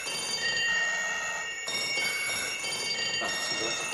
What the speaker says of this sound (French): C'est peut-être la sonnette.